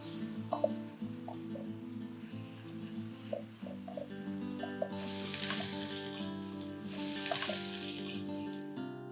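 Fresh spinach and masala frying in oil on high flame in an Indian kitchen, a steady close sizzle with scattered clinks of stirring that grows louder and hissier partway through.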